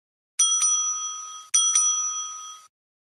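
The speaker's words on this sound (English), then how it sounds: "The timekeeper will ring the bell once to show the start of the preparation time" A timekeeper's bell at a school English debate rings twice in succession, each a bright, sustained metallic ring with a sharp strike, loud and close with no talking.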